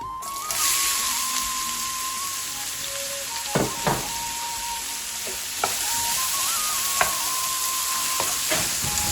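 Onions sizzle and fry steadily in hot oil with cumin seeds in a pan, a close, continuous crackle with occasional sharper pops and stirring clinks, no voices.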